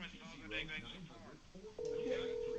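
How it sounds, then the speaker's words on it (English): A telephone sounds with a steady electronic tone that starts partway through and keeps going, heard at moderate level under and after someone talking. "I hear the phone ringing."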